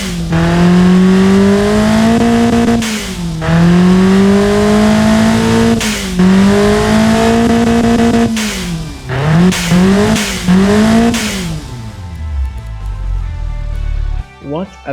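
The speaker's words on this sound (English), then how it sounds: "What a beast, 174 horsepower from this tiny engine." A tuned Hyundai 1.4-litre four-cylinder turbo engine in the Automation game, making 174 horsepower, revving loudly and repeatedly, climbing in pitch and dropping back between pulls, then winding down to a low idle near the end.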